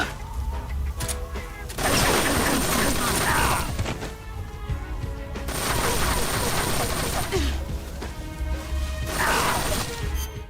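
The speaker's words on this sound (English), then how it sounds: "Hey, she's shooting through wood." Gunfire rips through wood in Metal Gear Solid 3, with loud sustained bursts of automatic fire and splintering impacts coming in waves, separated by brief quieter stretches with mechanical clatter.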